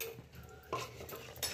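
A spoon stirs a bottle gourd and chana dal curry inside a pressure cooker, making faint scraping clinks with two sharper knocks against the metal pot, quiet and without talk.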